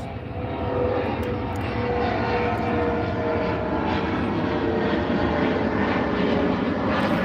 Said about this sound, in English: I'm letting the plane pass.